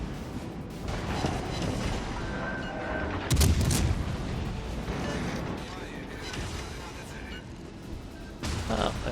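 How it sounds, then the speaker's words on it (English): Ship guns boom in a World of Warships naval battle against a Benson destroyer, heavy cannon blasts layered over continuous rumbling combat noise, with a loud salvo midway and another near the end while someone talks throughout. "We want all guns to just blap this Benson."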